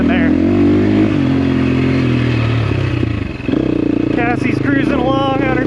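A trail motorcycle rides a mountain single track in the Idaho high country, its engine a loud steady drone with rattling clatter that dips briefly before pulling again, close to the mic, while someone talks over it.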